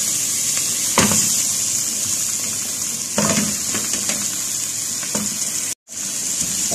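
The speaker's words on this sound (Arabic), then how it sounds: "وبعد كده انزل بالكوارع." Beef trotters frying with onions in a pot make a continuous hissing sizzle, broken by a few louder stirring scrapes. The sound cuts out briefly near the end, and there is no talking.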